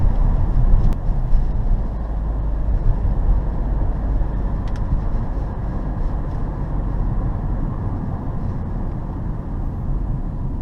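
A 2014 Hyundai Santa Fe DM with a 2.0-litre diesel engine climbs a hill. A steady, deep engine and road rumble is heard from inside the cabin, with no talking.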